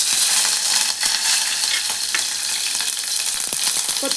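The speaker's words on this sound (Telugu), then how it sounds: "ఇలా కొంచెము జీలకర్ర, ఇలా కొన్ని ఆవాలు, ఒక 2-3 ఎల్లిపాయలు కూడా వేసుకోవాలి పోపుకి." Cumin seeds, mustard seeds and a few garlic cloves frying in hot oil for a tempering, a steady close sizzle with crackling pops and occasional stirring clinks, no talk.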